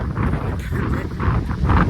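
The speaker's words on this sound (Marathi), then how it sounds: "वाऱ्याचाच आवाज येत असेल बहुतेक" Strong wind buffets the microphone on a mountain trek via Ganesh Ghat to Bhimashankar, a loud continuous rumbling roar with gusty surges throughout.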